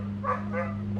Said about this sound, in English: The dog's gonna bark a lot now